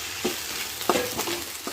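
Brinjal sizzles as it fries in a pan, with several short scraping stirs over a steady close frying hiss; no one talks.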